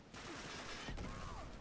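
Gunfire in the Uncharted 3 desert Atlantis game, a dense burst of rapid shots with a sharp crack near the middle, loud and continuous over a busy game backdrop.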